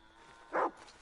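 A single short dog bark in Red Dead Redemption 2, one clear mid-pitched yap heard over quiet background ambience.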